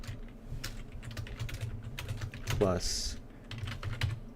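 Rapid clatter of computer keyboard keys typed in bursts, close and fairly quiet, interrupted by someone talking briefly.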